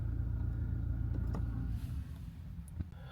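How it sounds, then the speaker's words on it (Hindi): An automatic car's engine idling with a low steady rumble, then cutting out partway through, leaving a quieter hum and a couple of small clicks afterward. "देन आप गाड़ी को यहाँ से बंद करोगे।"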